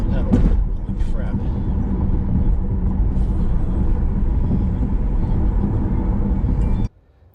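Tesla Model S Plaid accelerating hard, a loud sustained rush of road and wind roar with low rumble that cuts off abruptly near the end, a voice exclaiming early on.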